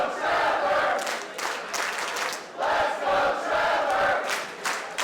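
A crowd at a wrestling match chants and cheers for Trevor Lee in loud rhythmic surges that swell and drop in repeated waves.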